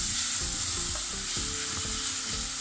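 Diced bacon, broccoli and garlic-and-herb cheese cook together in a pan, a steady bright sizzle beneath repeated low scraping and clinking of a utensil stirring against the pan, close and continuous with no speech.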